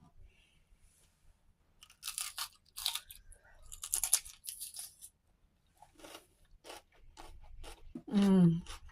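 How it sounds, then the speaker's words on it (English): Crunchy chewing during a taste test of homemade roast beef stew, with irregular close bites and crunches that come and go, followed by a short louder vocal sound at the end. "I don't know if you guys can hear the crunch,"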